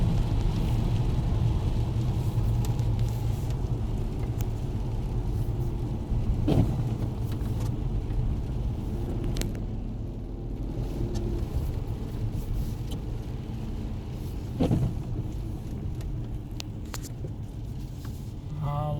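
A 2003 Jaguar S-Type driving through traffic, its engine a steady low rumble close by, with a few brief gear-change thumps rising out of the drone.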